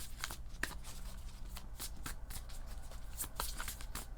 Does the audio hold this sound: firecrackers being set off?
no